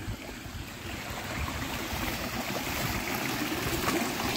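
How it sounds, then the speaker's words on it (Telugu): Rainwater flows between flooded paddy field plots, a soft, continuous trickling and gurgling that is faint and fairly close and has no voices over it. "ఆ నీళ్ళు ఈ నీళ్ళు ఆ మడ్ల నీళ్ళు ఈ మడ్ల నీళ్ళు అన్నీ ఈ మడ్లకి వచ్చినాయి."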